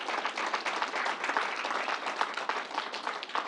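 A crowd at a fairgrounds vaccination site claps for the National Guard and site staff, a faint, steady round of applause heard at a distance.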